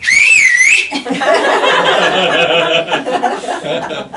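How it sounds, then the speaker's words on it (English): A teacher's loud, piercing recess whistle, the kind once used to call fourth graders in from the school field, rings out in a rising and falling pitch for under a second before people break into chuckles and laughter. "can you still do the whistle that would bring us in from fourth grade field?"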